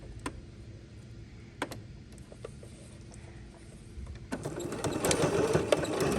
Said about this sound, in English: So let's take this to the sewing machine.